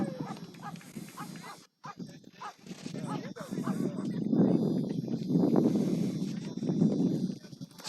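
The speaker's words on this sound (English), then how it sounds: "Some people brought dogs to the park." Dogs bark intermittently in the crowd at a varsity high school baseball game, partly masked by steady crowd chatter and ambient noise from the stands.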